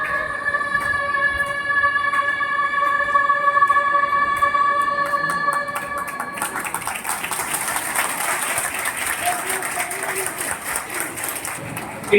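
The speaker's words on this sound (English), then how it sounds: "Give a huge round of applause to Nara." Audience applause follows a school talent-show performance of Vande Mataram; sustained clapping rises after a fading sung or held tone, continuing steadily and moderately loud for several seconds.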